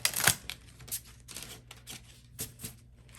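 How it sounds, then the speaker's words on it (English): Tarot cards being shuffled by hand, a few papery riffles and taps spread across a few seconds at close range, fairly quiet with no talking. "That was a bad shuffle."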